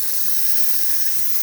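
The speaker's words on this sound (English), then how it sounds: "As you can see, steaming very well, working perfectly fine, good pressure, and excellent temperature as well." A Gaggia espresso machine's steam wand sends out a loud, steady hiss of steam that holds without a break and has no talking over it.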